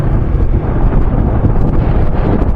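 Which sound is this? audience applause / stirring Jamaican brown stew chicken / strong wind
strong wind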